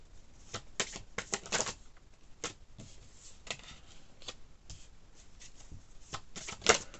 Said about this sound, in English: I'm just going to keep shuffling these cards so I get the right card on the bottom.